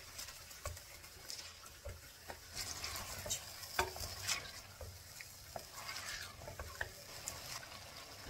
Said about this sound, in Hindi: अब हमने इसको भूनना है यहाँ तक कि इसका कलर चेंज हो जाए।